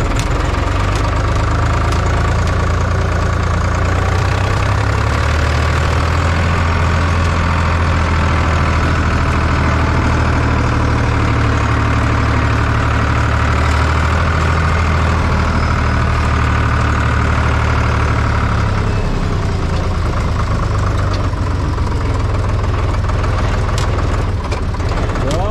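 An IHC 633 tractor engine runs steadily and loudly throughout while gears are shifted, a constant deep diesel drone with knocking texture and a slight change in pitch near the end.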